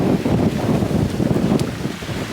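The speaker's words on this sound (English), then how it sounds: "It's windy" Wind buffets the microphone in a constant, rough rush, with low gusty rumbling throughout and no voices, outdoors on an island at Lake Shetek state park.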